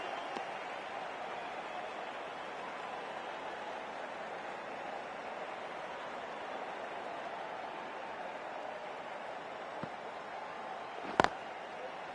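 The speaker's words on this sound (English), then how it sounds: "West Indies, please give them a round of applause" Steady, even wash of crowd applause at a West Indies vs New Zealand T20 cricket match, heard at a distance and sustained throughout, with a brief sharp burst near the end.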